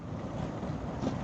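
Strong wind rushes and buffets against the rider on a Honda Africa Twin motorcycle crossing flat, windy open country in the rain. It is a constant loud roar with no breaks and no voices.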